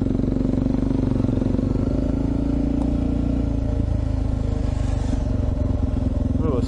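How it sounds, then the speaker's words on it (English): Dual sport motorcycles on a trail adventure ride give a continuous loud engine drone with rumbling and clattering from the ridden bike, wind and engine noise masking any passing machines. "There you go, you get to see some bikes."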